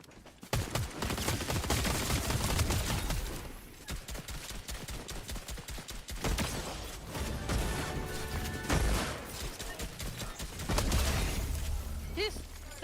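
Repeated shotgun blasts and bursts of gunfire ring out in a multiplayer shooter game, dense and loud over about thirteen seconds with brief lulls, while players talk over the action.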